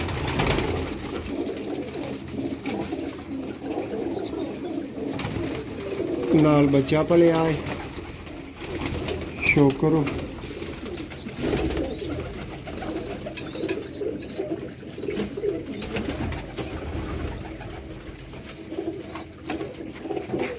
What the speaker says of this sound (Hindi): लाजवाब दोस्तों सियालकोटी कबूतर।